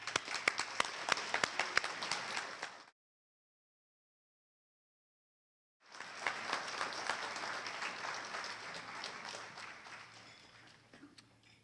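Audience applause welcomes a speaker at a Michigan Department of Community Health event, a dense, steady clapping that breaks off into a few seconds of silence before resuming and slowly fading.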